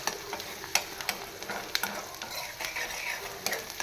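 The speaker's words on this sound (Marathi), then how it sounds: "मिडियम गॅसवर आपण कांदा परतवून घेतो मस्तपैकी." Onion sautéing in a pan over medium gas, a steady close sizzle with irregular scraping stirs from a spatula, no voices.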